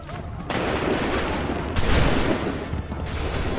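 A loud musket volley crashes out in the video game Assassin's Creed III, a sustained barrage of overlapping gunfire with swelling bursts and short gaps, battlefield commands faintly mixed beneath.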